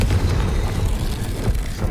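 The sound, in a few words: Confringo explosion spell in video game Hogwarts Legacy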